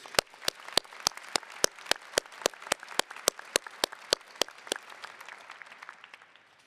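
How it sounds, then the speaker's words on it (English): At a graduation hooding ceremony, sharp, evenly spaced claps ring out in a steady rhythm, about twenty in a row, sounding like only a few hands, then thin out and soften toward the end. "let's give him a hearty round of applause"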